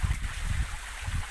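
Water trickling and gurgling along a shallow stream, weakened in the dry season, with soft low burbles pulsing steadily up close and no voices.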